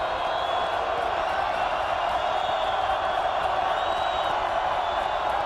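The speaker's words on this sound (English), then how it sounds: "And Yale is playing against this crowd too." A football stadium crowd roars at a college championship playoff game, a loud, sustained wash of cheering and whooping that fills the space with no letup.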